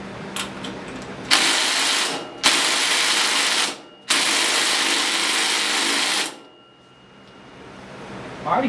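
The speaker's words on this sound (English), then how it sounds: "I'm going to take and run her down with the old impact" An impact wrench drives down the flywheel nut on a Predator 212 go-kart engine in three loud, close bursts of buzzing hammering separated by brief pauses, then quiet.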